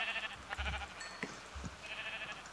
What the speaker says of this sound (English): I'm killing a bunch of black sheep.